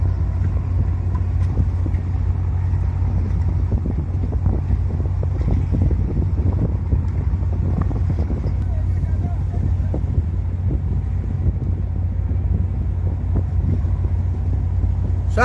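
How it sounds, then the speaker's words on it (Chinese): A coast guard speedboat runs on the sea near Penghu, its engine a loud, constant low roar with wind buffeting the microphone and water rushing past throughout. "水上快艇。"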